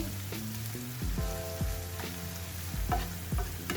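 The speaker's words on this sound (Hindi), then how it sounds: "ये इसमें ज़ीरा गया, थोड़ा सा इसे मिक्स करेंगे।" Cumin seeds sizzling in hot oil with softened onion in a pan for brain masala, steady crackling fry under repeated spatula strokes scraping across the pan, close and moderately loud, no voices.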